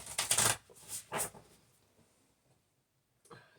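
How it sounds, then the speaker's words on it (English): Tarot cards being shuffled by hand during a morning reading, a few quick riffling bursts close by followed by quiet, then a brief soft rustle. "Oops, they didn't shuffle very well."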